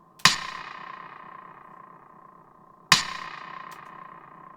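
Two sharp percussive hits, a few seconds apart, each trailing off in a long echoing Fruity Reverb 2 tail; the reverb is turned down, so the second decay sounds slightly shorter, with no voices.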